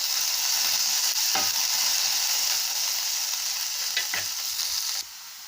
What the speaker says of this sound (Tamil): இது அப்படியே நல்லா வதக்கி விடலாங்க.